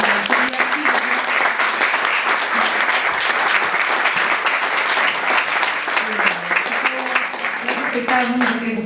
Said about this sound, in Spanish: les pediría un aplauso